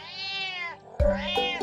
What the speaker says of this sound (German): Hört ihr die Katze?